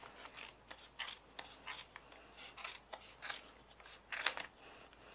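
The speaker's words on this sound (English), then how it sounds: "Now you're just going to cut down the middle, just like you would any other pom-pom." Scissors snip through a yarn pom-pom in a run of crisp, close cuts at an uneven pace, quiet and alone.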